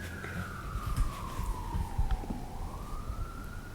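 A distant emergency siren gives one slow wail that falls in pitch, then begins rising again, moderately faint over low background rumble.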